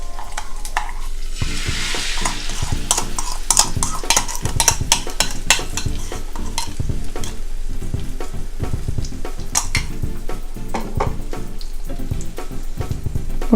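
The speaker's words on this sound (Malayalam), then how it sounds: "ഈ സമയത്ത് ഇതിലേക്ക് നേരത്തെ നമ്മൾ കലക്കി വെച്ചിരുന്ന മുട്ടക്കൂട്ട് ചേർത്ത് കൊടുക്കുക" An egg mixture goes into a pan of raisins frying for Malabar stuffed plantain fry, setting off a loud sizzle and crackle with utensil clinks and stirring scrapes close by.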